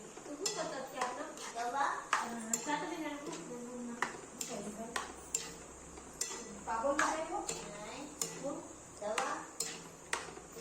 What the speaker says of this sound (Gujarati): આપણે જે મેથી ભાજી કરી હતી તેમાં આપણે આ મિક્સ કરી દેવાનું છે અને બરોબર આપણે મિક્સ કરી દઈએ